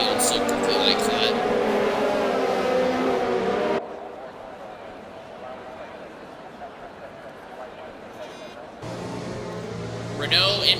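Mercedes-AMG safety car engine in a racing video game at Baku, roaring loudly as it pulls away for a few seconds before dropping to a quieter drone, with a commentator talking over it.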